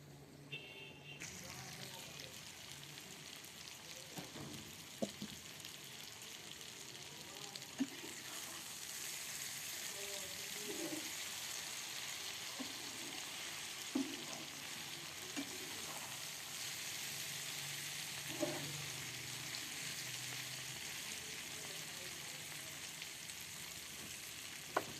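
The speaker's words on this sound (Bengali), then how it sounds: "আমি সিম ভাজি করি" Flat beans (sim) fry in a home kitchen pan with a steady, continuous sizzle that runs throughout, broken by occasional clinks and scrapes of stirring. Someone talks intermittently over the cooking.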